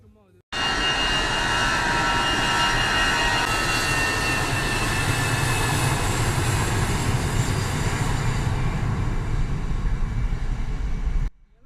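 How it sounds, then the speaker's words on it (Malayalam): A fixed-wing jet airliner landing or taking off near the airport in Ernakulam gives a loud, close engine roar. The roar holds steady for about eleven seconds and then stops abruptly. "ഒരു 5-6 വിമാനം ഒരു അരമണിക്കൂറിൽ ലാൻഡിങ്ങും ടേക്ക് ഓഫ് ഒക്കെ ചെയ്യുന്നത് കണ്ടു"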